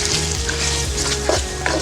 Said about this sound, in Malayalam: ഈ ജിഞ്ചർ ഗാർലിക് പേസ്റ്റ് ഇട്ട ശേഷം ഇത് നല്ലവണ്ണം നമുക്ക് മൂപ്പിച്ചെടുക്കണം.